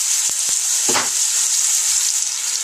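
Two pounds of ground turkey sizzle steadily in a little oil in a pot for chili, a loud constant frying hiss with a few brief stirring clicks and scrapes close by.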